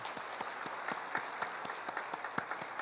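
A church congregation claps during a Sunday worship service, a soft, fairly distant patter of applause with a few distinct, rhythmic claps standing out over nearly three seconds.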